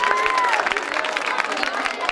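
Audience at a BJP birthday gathering for Dharamlal Kaushik in Chhattisgarh applauds to welcome the organizing committee, with steady, dense clapping and crowd noise filling the hall throughout.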